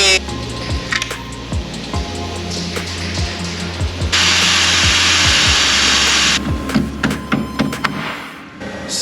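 Cutting through a rusted nut and bolt on a barn-find Ferrari BB being rebuilt, a steady grinding drone with a brighter, louder stretch of cutting in the middle and clattering knocks near the end.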